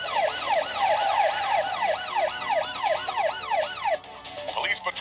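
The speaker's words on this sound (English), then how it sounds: "Rescue Heroes voice tech police car." The Rescue Heroes Voice Tech toy police car blares its siren, a loud, fast repeating wail that sweeps up and down for several seconds before cutting off into brief clatter.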